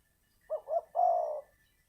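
Spotted dove, a large Thai dove kept for song contests, gives a clear, close coo: two short notes followed by one longer drawn-out note, alone against near silence.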